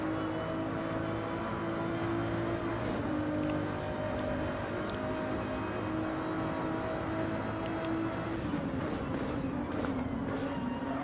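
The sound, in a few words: Ferrari engines in a racing video game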